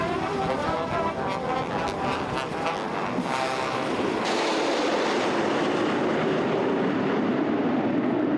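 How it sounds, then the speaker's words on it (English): Military jets fly over in salute after Air Force One lands, a loud sustained roar that swells and then shifts to a lower, steadier rumble as the aircraft pass. "that flyover at the end was a salute"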